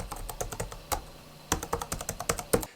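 Fingers type on a Jelly Comb KE68 computer keyboard with concave keycaps, giving a quick, irregular run of close, crisp key clicks with no voices.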